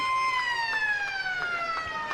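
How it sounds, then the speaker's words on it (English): A long, loud wailing siren sounds at three-quarter time at a country football match at City Oval, Ballarat, holding steady tones throughout, with no voices over it. "And there's the siren."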